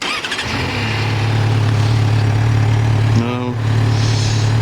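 A 2009 Yamaha FZ6R motorcycle engine idles with a steady low rumble, briefly blipped with a short rev partway through, recorded up close.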